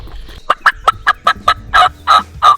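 Wild turkey gobbling outdoors during a hunt: a quick series of about nine sharp, loud gobble bursts in a rapid, evenly spaced rhythm, close and clear over a quiet background.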